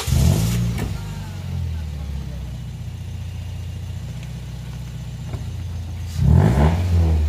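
A car engine with a stuck ignition key is idling and then blipped twice, with loud short revs at the start and again near the end around a steady low idle, while people talk nearby.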